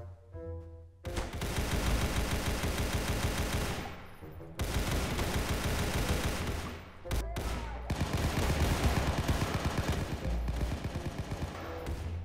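Rapid bursts of gunfire in a Roblox shooting game, dense and continuous with short breaks between volleys, heard loud and alone without talk.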